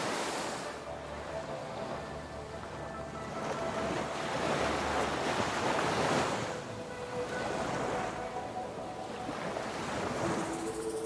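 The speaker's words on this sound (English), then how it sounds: "the exciting sound of the surf beckons from down below" Surf breaks below sharp cliffs on the Caspian Sea coast, a continuous wash of waves swelling and receding in slow surges, heard from above and mixed with gusting wind noise, with no voices.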